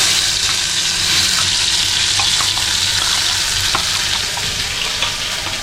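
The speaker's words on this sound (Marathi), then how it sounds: "हा मसाला चांगला फ्राय करायचा तेलामध्ये." Masala paste with ginger-garlic frying in hot oil for a fish curry, a steady loud sizzle with faint stirring scrapes throughout, no voices.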